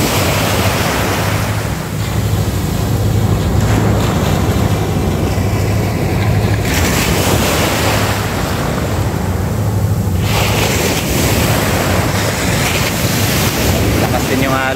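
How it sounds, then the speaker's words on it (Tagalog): Loud, steady surf crashes continuously on a beach in Zambales, Philippines, with wind buffeting the microphone and waves rolling in one after another. "Lakas din yung alon Lord."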